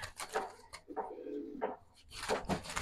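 Domestic racing pigeons at a pigeon club coo in soft, repeated low bursts, fairly close, with no talk over them.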